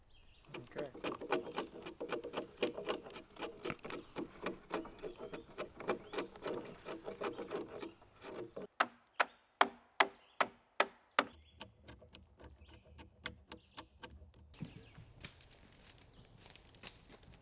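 A chisel cuts into wood for cabin posts at a camp build, producing a long series of sharp, rhythmic taps and chops, steady at first and then sparser and more spaced out.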